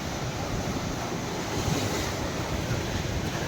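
Steady broadband rush of sea waves breaking and splashing on rocks, water spraying upward, with wind buffeting the microphone; no voices.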